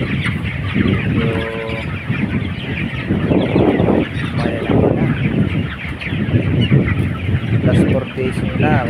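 Meat chickens at 26 days old on a farm, four days from harvest, fill the air with continuous loud clucking and squawking from a large flock, layered calls overlapping throughout.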